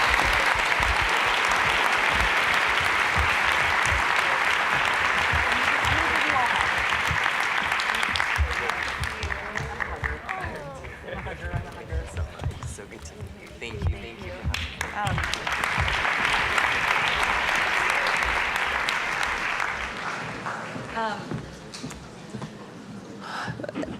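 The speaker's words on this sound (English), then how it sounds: "Please join me in giving them a round of applause." A large audience at a Clinton Global Initiative 2025 mainstage session claps loudly and densely, thins out midway as voices talk over scattered claps, then swells again before fading.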